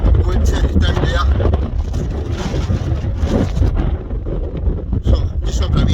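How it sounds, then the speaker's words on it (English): Strong wind on a Scottish hilltop above a loch, buffeting the microphone in a loud, continuous low roar with gusty surges throughout. "Breezy up here, but that's the loch I'm going to down there."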